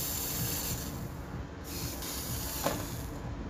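Continuous broad hiss of spray from a rust-proofing wand with blocked jets, steady and fairly loud throughout, with a brief sputter near the end.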